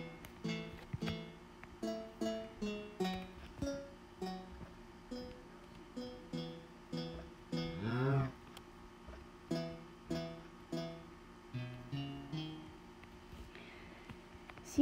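Minecraft note blocks plucking the Accumula Town theme, crisp short repeated tones in a bouncy rhythm with layered bass notes, a brief swooping sweep midway, no talking.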